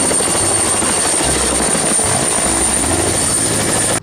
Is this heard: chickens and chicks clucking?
no